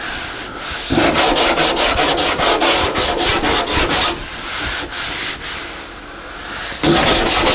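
Hand sanding of soft Bondo body filler on a car panel makes light, rhythmic rasping strokes in quick, even bursts, with a couple of short pauses between passes, close and clear with no talk.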